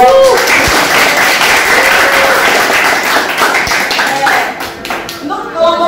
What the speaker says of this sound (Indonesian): Oke, kalau ada kita beri tepuk tangan.